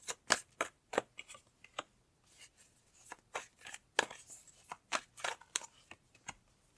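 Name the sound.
tarot cards being drawn from the deck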